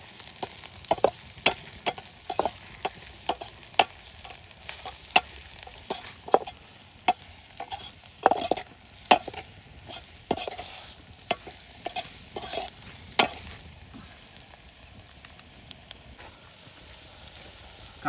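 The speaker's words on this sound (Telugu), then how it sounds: "కారం మంచిగా వేగింది." Potato and brinjal curry with chili powder frying in a pan, a low sizzle under frequent sharp scrapes and taps of a spoon stirring, close and continuous with no talk.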